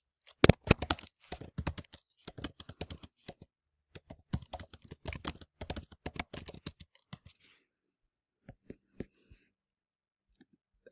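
Someone typing notes on a computer keyboard nearby, with quick bursts of key clicks, short pauses, then sparse single taps near the end.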